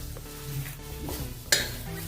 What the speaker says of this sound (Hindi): स्वाद के अनुसार हमने इसमें नमक डाला है और से अच्छे से एक बार मिक्स कर लेंगे।